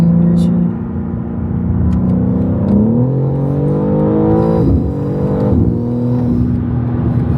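An Audi RSQ3 engine pulls under acceleration, its steady loud drone rising in pitch through the gears with a brief shift dip midway, while people talk over it inside the cabin.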